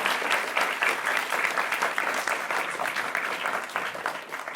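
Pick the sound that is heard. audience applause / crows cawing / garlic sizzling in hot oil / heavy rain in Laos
audience applause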